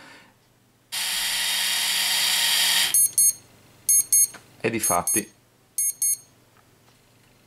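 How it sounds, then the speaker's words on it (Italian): A long harsh electronic buzz, then several short high-pitched low-battery beeps from a Philips electric shaver in quick pairs, with a brief spoken remark in between. "se le batterie non sono cariche dovremo sentire il beep"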